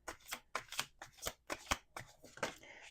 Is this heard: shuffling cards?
yes